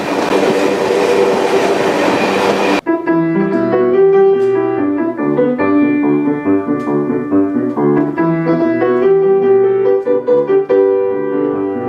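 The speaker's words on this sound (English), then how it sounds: "this godforsaken train is finally going a little faster" A freight train rumbles along the rails near New Orleans with a steady mechanical drone and rhythmic clatter, loud and close, after a burst of broadband noise at the start.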